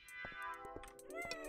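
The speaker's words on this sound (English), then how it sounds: "No, it's a cat." A cat meows a few times in a PS1 horror demo game, the calls short and tonal, fairly faint and alone with no talking over them.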